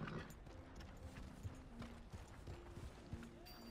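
Horse hooves clip-clop in a quick, light rhythm over a busy background, with a faint whinny near the end, in the video game Red Dead Redemption 2.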